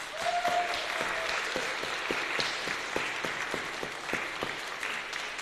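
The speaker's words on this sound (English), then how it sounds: "Should we give a big round of applause?" A church congregation at a Sunday service applauds, with a soft wash of many hands and a few sharper individual claps standing out over the quieter background.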